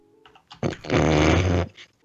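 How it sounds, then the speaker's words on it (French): A dog indoors lets out a close, loud growling grumble lasting about a second, preceded by a few faint snuffling noises. "soit y'a mon chien qui fout le bordel"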